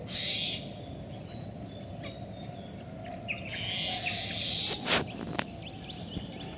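Morning birds call outdoors in Bangladesh, hidden among water hyacinth, over a steady insect and cricket drone, with a few scattered chirps and one louder call near the middle.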